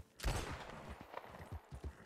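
Gunfire crackles in a GTA roleplay game on an Atlanta RP server: an opening burst followed by a string of quieter, distant-sounding shots spread unevenly over the moment.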